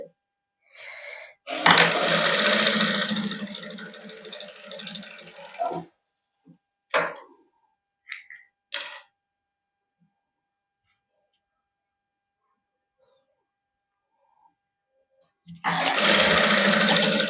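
A boutique sewing machine stitches lace piping onto a sleeve in close, loud bursts of rapid rattling, stopping between runs with clicks and handling noises, then starting again at the end.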